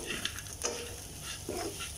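Chicken frying with coriander and other spice powders sizzles softly in a pan for a Kerala pepper fry, with faint stirring scrapes and a low, steady background hum.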